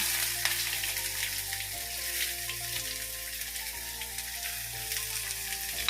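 Chopped onions frying in a pan of hot oil sizzle loudly and steadily, with a continuous crackling hiss and occasional stirring, no talking.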